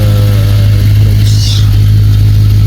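An Audi RS4 B7 engine rumbles loudly and close through its exhaust, in very good condition, a deep steady drone with little change in pitch.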